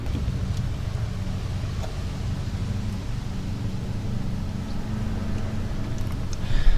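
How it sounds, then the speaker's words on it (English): Constant outdoor wind rumbling across the microphone for several seconds, a steady broadband roar with faint clicks and no speech, while working on a 1964 Dodge Custom 880. "Today's a little bit windy"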